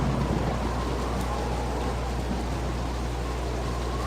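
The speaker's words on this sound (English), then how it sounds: "it's raining like hell, so we are going to head to the inn" Rain falls in the Baldur's Gate video game as a constant, even hiss of downpour, moderately loud and unchanging, with no speech.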